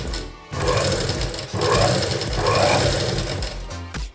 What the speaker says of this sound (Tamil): நம்ம இன்னும் கொஞ்சம் இப்போ ஃபாஸ்ட்டாக ஸ்டிச் பண்ணலாம்.